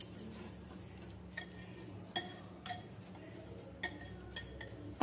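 Malpua batter mixed with fennel in a bowl: a spoon scrapes and stirs with soft, irregular clinks against the bowl, a few sharper taps standing out over a low, steady room hum.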